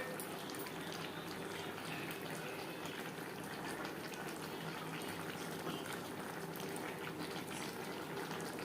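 Pomfret fish simmering in a spicy curry gravy, a steady close bubbling and hissing that continues evenly throughout with no talking.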